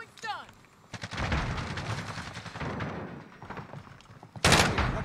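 Gunfire from the video game Warzone comes in a few sharp bursts, with one loud shot near the end, while players talk over it.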